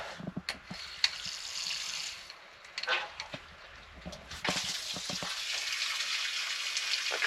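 Tap water gushes and splashes through a flexible hose being rinsed during a domestic hot-water repair, a steady broadband wash with intermittent sputtering and clunks, close and fairly loud with no talk.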